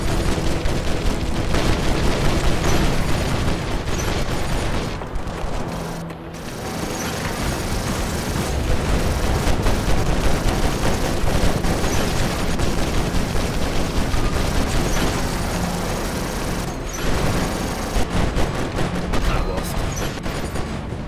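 Loud, continuous barrage of sci-fi weapon blasts and explosions from the robot combat game War Robots, dense and rumbling throughout, with brief dips before the firing resumes.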